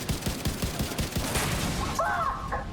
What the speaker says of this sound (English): I'll just use the rifle.